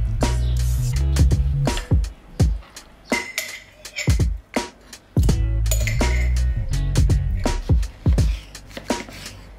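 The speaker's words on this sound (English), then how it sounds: "I just add a little bit of plant milk, stir it around until I get this like super creamy consistency." A spoon stirs plant milk into a thick breakfast bowl, giving repeated clinks and scrapes against the dish in an uneven rhythm, close and fairly loud, with no talking.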